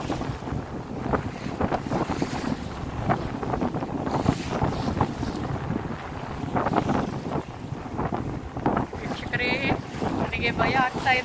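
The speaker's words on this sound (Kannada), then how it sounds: "ನಾನು ಈಗ ಕೊಡೇರಿ ಬಂದರಿನ ಸಮುದ್ರಕ್ಕೆ ಪ್ರವೇಶ ಮಾಡಿದ್ದೀವಿ" Fishing boat heading out to sea off Koderi harbour, with wind roaring across the microphone and water rushing past the hull in a constant loud wash, choppy bursts throughout.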